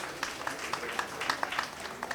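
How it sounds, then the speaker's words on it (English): Light, scattered clapping from a quiz competition audience applauding the teams, faint and brief with sparse individual claps rather than a full ovation. "Round of applause for them."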